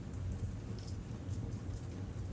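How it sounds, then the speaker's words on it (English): Steady rain pours down in a continuous soft hiss with a low, rumbling undertone, unbroken and fairly close, with no voices. "waiting for the rain to pass"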